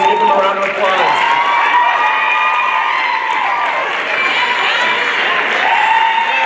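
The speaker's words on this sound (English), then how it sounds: "Let's give them a round of applause." A college pageant crowd claps and cheers for the judges, a dense, steady roar of applause with shouts mixed in, loud and close throughout.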